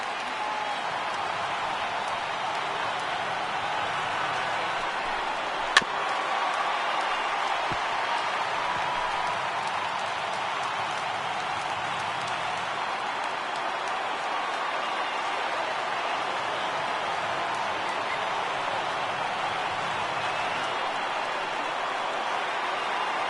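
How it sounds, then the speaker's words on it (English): A steady wash of baseball crowd noise from MLB The Show 18, with fans rising in applause during a Marlins–Dodgers game, a dense continuous roar held at an even level throughout. "Now what's left of this crowd this afternoon gets to their feet."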